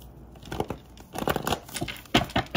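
Tarot cards being shuffled by hand, a series of irregular papery riffles and crinkles, close and moderately loud, with no voices.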